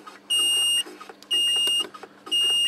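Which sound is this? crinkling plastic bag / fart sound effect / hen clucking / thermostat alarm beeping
thermostat alarm beeping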